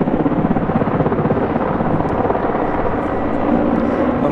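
A Mi-171Š military helicopter, a Mi-8 series type, flies at a NATO Days air show with a loud, steady rotor thump and turbine roar filling the whole stretch.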